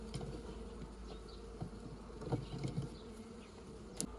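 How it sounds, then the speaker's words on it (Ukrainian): Steady insect buzzing from many bees, a dense continuous drone with a few louder passes close by. "бджоли відти всі повилітають"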